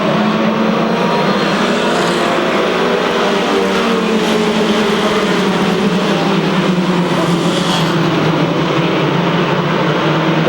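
Sports trucks race at Seekonk Speedway, a dense, continuous roar of several engines close by, holding steady for the whole stretch with shifting pitch as trucks pass, and no talk.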